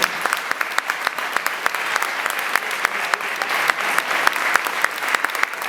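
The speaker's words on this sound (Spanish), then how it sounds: "el paro tiene un nivel de acatamiento muy importante, que hay que aplaudir" Audience at a union assembly breaks into sustained, dense clapping, steady and fairly loud throughout with no voices on top.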